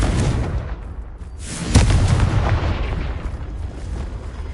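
A Confringo explosive spell going off in Hogwarts Legacy on hard difficulty, a sharp loud blast near the middle with a rumbling tail, set in ongoing low battle noise.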